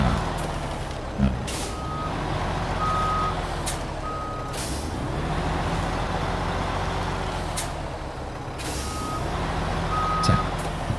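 A truck reversing in the SnowRunner off-road driving game sends out a regular series of high electronic beeps over a steady engine drone, with short bursts of air-brake hiss. No one speaks.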